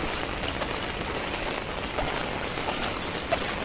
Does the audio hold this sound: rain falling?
yes